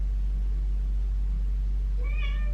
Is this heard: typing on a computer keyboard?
no